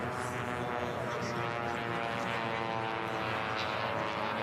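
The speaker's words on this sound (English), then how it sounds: "Listen to those planes go by that pylon." Racing biplanes at the Reno Air Races roar past a pylon, a loud, continuous buzzing propeller engine drone with layered harmonics filling the whole stretch at close range.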